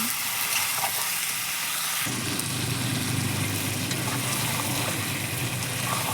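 Spices and masala sautéed down in a pan, a dense continuous sizzle and hiss that suddenly grows fuller and louder partway through, then holds steady with faint scraping.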